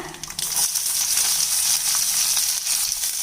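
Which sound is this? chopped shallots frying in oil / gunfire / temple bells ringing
chopped shallots frying in oil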